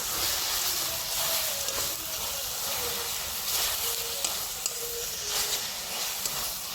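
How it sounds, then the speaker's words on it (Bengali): Shredded coconut is stirred into a pan of sugar caramel with a steady low sizzle and hiss, broken by occasional soft scrapes, continuous and fairly close with no talking. "নারকেলটাকে আমি ভালো করে মিশিয়ে নিয়েছি"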